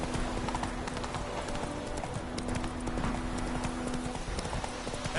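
Horse Roach galloping in a PS4 video game, a steady rapid clip-clop of hooves running continuously at close range with a faint whinny, over a constant background hum.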